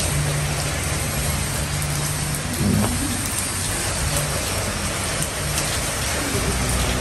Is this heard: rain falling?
yes